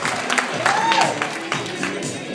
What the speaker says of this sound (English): Can everyone give me some applause and some noise in here, please?